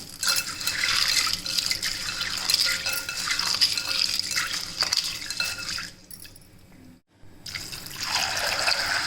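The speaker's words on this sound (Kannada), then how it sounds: "ಒಂದು ಕಪ್ ರಾಜ್ಮಾವನ್ನು ಚೆನ್ನಾಗಿ ತೊಳೆದು 8 ಗಂಟೆ ಕಾಲ ಚೆನ್ನಾಗಿ ನೆನೆಸ್ಕೊಳ್ಬೇಕು." Rajma kidney beans being rinsed in water, with a steady wash of splashing, sloshing liquid close by, a brief lull near the end, then the watery churning resumes.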